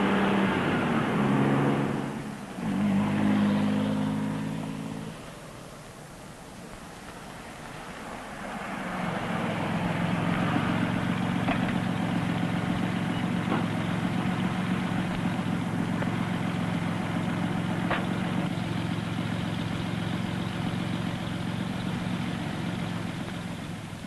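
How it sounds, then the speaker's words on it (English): A Corvair Monza Spider's 150-horsepower turbocharged air-cooled engine runs with a steady, low droning hum. A brief rumble fades out after a few seconds, then the engine swells back in and holds a constant, moderately loud tone to the end. "the sizzling Corvair Monza Spider with a whopping big 150 horsepower turbo air engine"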